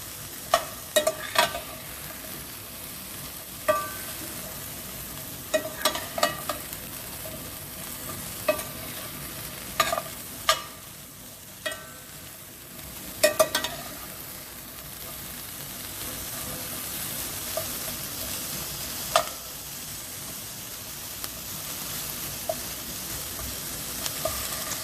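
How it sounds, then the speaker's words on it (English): Squash and zucchini frying in a pan, a soft steady sizzle with intermittent sharp clicks and scrapes of a utensil stirring, fairly quiet and close, with no talking. "I'm going to go ahead and add the squash and zucchini and give that a stir as well"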